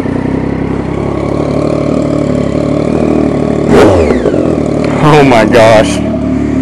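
A Triumph Daytona 675R motorcycle, set up as a track bike, fires up and idles close by, then gives a sharp rev and a pair of quick throttle blips, with a brief spoken exclamation in between.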